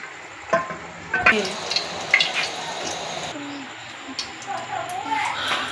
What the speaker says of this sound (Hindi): अब हम डालेंगे घी, जो कि सवैयाँ को लगाएंगे